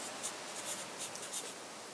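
A pen writing on a Toyota Corolla starter motor during clutch replacement, heard as close, quiet scratchy strokes in short bursts with no talking.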